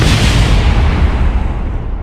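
A loud, rumbling explosion in the video game Kerbal Space Program roars for a couple of seconds, with a deep boom and crackling debris that fades slightly toward the end.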